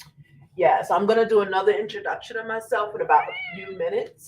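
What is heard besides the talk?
cat screaming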